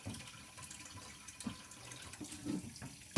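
Tap water runs steadily into a pot holding corned beef silverside, a faint continuous splashing flow with small sloshes and no talk.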